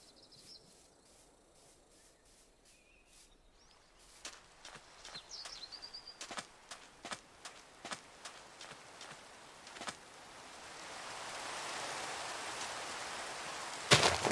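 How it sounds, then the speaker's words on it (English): Steady hiss of rain in modded Minecraft builds up over the second half, after a run of sharp, evenly spaced thuds like footsteps, with a faint tone early on. "I guess also it's raining"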